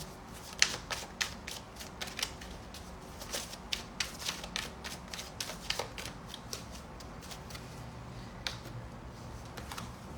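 A deck of cards shuffled close up, giving a steady run of crisp riffling flicks and snaps that carries on throughout.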